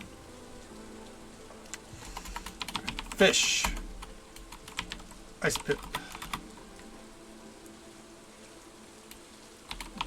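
Computer keyboard typing comes in quick, light bursts of clicks while a person talks intermittently over soft background music, with a couple of louder clusters of keystrokes.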